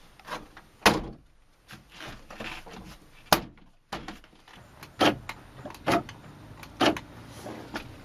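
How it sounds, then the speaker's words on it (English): Door panel being pressed back onto a Chrysler Town & Country front door, a series of sharp plastic clip snaps and thunks spaced irregularly, close and fairly loud, with softer handling rustle between them. "I'm going to put the door panel back on."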